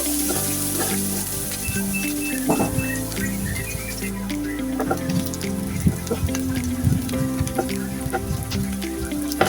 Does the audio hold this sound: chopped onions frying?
yes